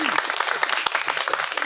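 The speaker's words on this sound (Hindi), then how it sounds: "आप लोग ताली बजा करके आदेशित करें मीना जी को" Audience applause for a female poet at a Hindi poetry gathering, a short burst of dense clapping from a crowd, steady and fairly close, with voices mixed in.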